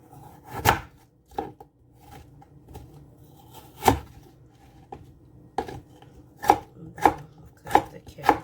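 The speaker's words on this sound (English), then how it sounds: "Next, we're going to cut up the" A knife chops carrots on a cutting board while vegetables are prepared for an egg veggie stew. About nine crisp, close strikes come at an irregular pace with short quiet gaps between them, and no one speaks.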